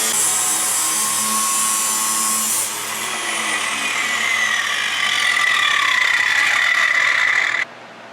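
An impact wrench whines and ratchets steadily for several seconds, driving long screws into a wood and steel crib, a high mechanical buzz that shifts pitch as it drives in, then abruptly cuts off.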